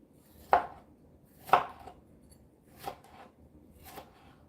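A knife slices through fruit for a smoothie on a cutting board, giving four separate chopping knocks spaced about a second apart, the first two louder and the later ones softer, over quiet room noise.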